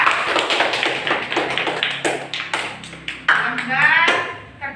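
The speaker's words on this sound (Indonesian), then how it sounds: "Kasih tepuk tangan untuk kelompok 3." Classroom applause for a student group at an elementary school, a quick patter of many hands clapping close by with sharp taps, fading out near the end.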